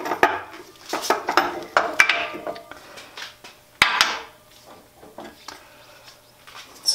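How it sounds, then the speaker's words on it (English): Metallic clanks and scrapes as the pulley and spindle are pulled off a Jet lathe headstock, irregular close knocks and rattles with a couple of sharper rings, under someone talking. "we should be able to just pull, get our pulley off, and then our spindle will come right out"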